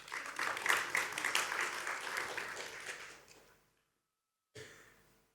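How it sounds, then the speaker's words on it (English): Audience applause at a landscape architecture talk, a steady round of clapping from a crowd that fades out after about three and a half seconds, followed by a short break and a brief sound of a room settling. "I would say a big round of applause for that collaboration"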